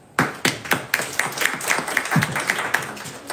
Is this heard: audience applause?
yes